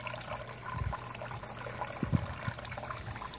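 Water flows and trickles into a garden wicking bed, a soft steady liquid wash with a few low gurgles standing out near the middle of the recording.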